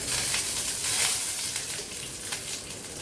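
Nigella seeds hit hot frying oil in a pan and set off a steady, close hissing sizzle with slight crackles, continuous throughout and with no voices.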